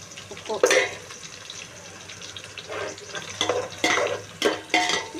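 Onions deep frying in a pot for mutton biryani, with a steady low sizzle and bursts of stirring and utensil scraping, fairly close and moderately loud, with no talk over it.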